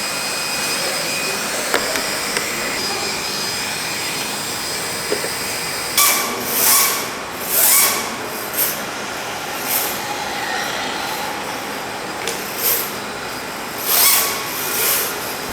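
An RC drift car on a PDK chassis with an AccuVance motor and spec rear tires whirring at a steady high-pitched whine, then rising into repeated bursts of motor revving and tire scrubbing as it drifts.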